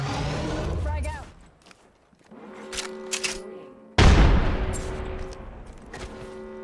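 A frag grenade explodes in Call of Duty, a deep booming blast followed by rumbling debris, set among other heavy gunfire and game bursts, with in-game voices talking in the background.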